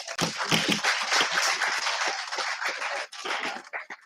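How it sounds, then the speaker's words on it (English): An audience at a World Food Safety Day celebration breaks into steady, dense applause for a district food safety team, many hands clapping at moderate distance and tapering off near the end. "I also beg a big applause from the house for the entire food safety team of Nadia district"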